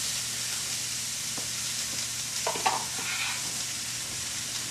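Apples cook in two tablespoons of melted butter in a pan, giving a constant close sizzle with a few faint scrapes and taps of a utensil partway through.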